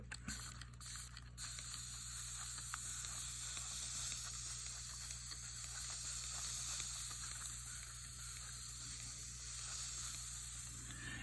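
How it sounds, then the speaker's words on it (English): A steady, faint hiss of fine water mist spraying from a mister runs throughout, with a few quick clicks of a trigger pump at the start. "Now I'm just going to use my mister and spray that a little bit."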